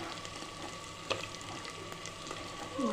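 Tomatoes frying in a pan with ginger paste for a brown rice vegetable pulao, a steady soft sizzle with faint stirring and a small clink partway through, no voices.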